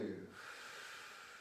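Soft breathing during a gentle morning stretching exercise: one faint, airy breath at the start fades into a quiet hiss.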